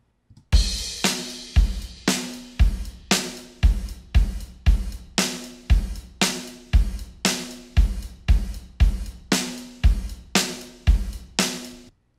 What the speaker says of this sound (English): Here, I have a submix of stereo drums.